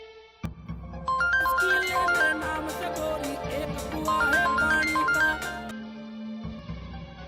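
A phone ringtone plays while someone calls a police inspector, a melodic looping tune of repeated electronic notes that starts after a click and runs for several seconds before cutting off.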